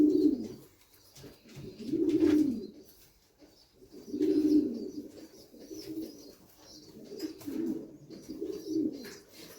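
A young long-distance racing pigeon coos softly and repeatedly nearby, low throaty calls rising and falling every couple of seconds.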